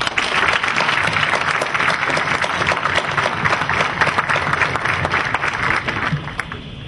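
Audience applause for child improvised-verse poets (repentistas) from Mayabeque at a Cuban cultural event, sustained dense clapping from a hall crowd, loud and even, tapering slightly at the end.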